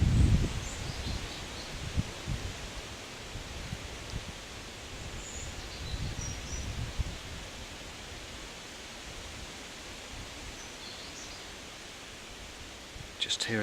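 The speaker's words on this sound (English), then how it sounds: "Just hearing the wind in the leaves and the bird song." Steady soft rustle of wind through tree leaves in Swaledale fills the scene, with faint, scattered birdsong in the distance and a few nearby bumps.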